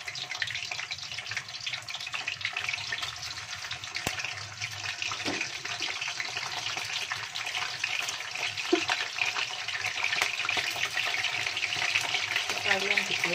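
Tilapia fish frying in hot oil, a steady dense sizzle and crackle with occasional pops, continuous and close throughout.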